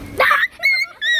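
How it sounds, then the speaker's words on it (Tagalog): A pinched dog gives a sharp, close yelp followed by two thinner, high whimpers in quick succession. "Oh, naipit na yung aso."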